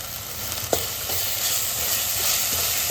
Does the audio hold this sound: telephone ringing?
no